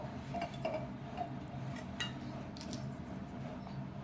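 A spoon stirring a paste of cornflour, aloe vera gel and dragon fruit juice in a small bowl, faint scattered clinks and scrapes against a quiet background, with no talking.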